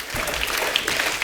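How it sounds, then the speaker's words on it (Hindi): Studio audience applause on a comedy talk show, a short burst of dense clapping filling the moment at a fairly loud level. "एक बार जोरदार तालियां अक्षय बाजी के लिए."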